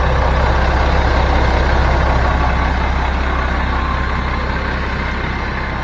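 A motorhome towing a car on a trailer during a test drive: a loud, steady, low engine drone that holds constant throughout, with road rumble underneath.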